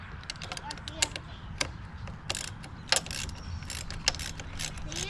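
A 10mm bolt on the brake lever of a 2018 Triumph Street Triple 765 is loosened with a ratcheting tool, giving quick, close metallic clicks in short irregular bursts over a low steady background hum.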